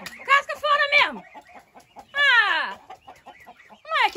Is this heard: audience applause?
no